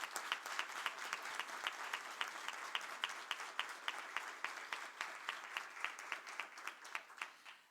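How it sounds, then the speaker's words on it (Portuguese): Hands clap in a government ceremony for the International Day of Persons with Disabilities, a faint, fairly thin round of applause with individual claps standing out in a loose rhythm throughout. "a quem peço uma salva de palmas."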